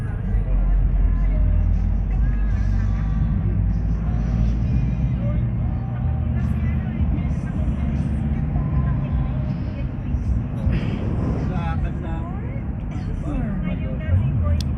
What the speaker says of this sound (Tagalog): Matraffic lagi dito.